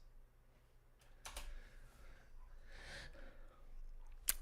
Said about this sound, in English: Loudest keyboard in the world.